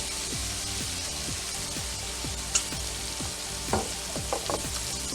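Shrimp frying in oil in a pan, a continuous close sizzle with repeated soft clicks and a few sharper spatters near the end, with no talking.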